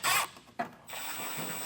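A T25 Torx screw comes out of a tail light, with a short ratcheting click burst, a sharp tap, then a faint mechanical hiss, all brief and close.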